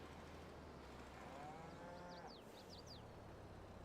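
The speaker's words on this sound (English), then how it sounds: "Cows." A cow in Farming Simulator 22 gives a single drawn-out moo over a steady low farm ambience, followed by a quick run of chirping bird calls.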